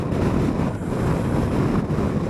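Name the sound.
strong wind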